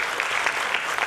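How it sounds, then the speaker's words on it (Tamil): Audience applause at a Bharatanatyam arangetram dance debut: a dense, steady patter of many hands clapping together, loud and sustained without a break. "நாம் எல்லோரும் ஒரு பெரிய கரகோஷத்தை கொடுக்க வேண்டும் என்று ஆசைப்படுகிறேன்"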